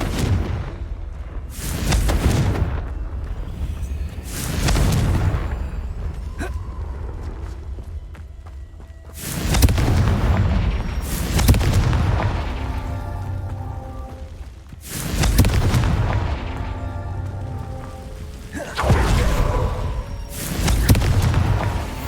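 Confringo explosive spells blast in the Hogwarts Legacy video game, several deep booming impacts in separate waves with rumbling tails, over game ambience and footsteps, with no talk.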